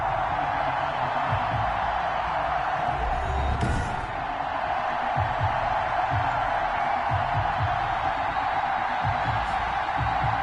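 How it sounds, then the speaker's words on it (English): A sold-out Heinz Field crowd roars for Ben Roethlisberger before a Steelers–Bengals game. The broad, steady wall of cheering holds at a constant level throughout, with occasional louder swells and thuds rising out of the din. "Big Ben Roethlisberger greeted by this sold-out Heinz Field crowd"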